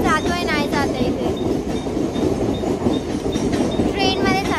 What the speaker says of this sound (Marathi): फास्ट ट्रेन पकडलेली आम्ही लोकांनी.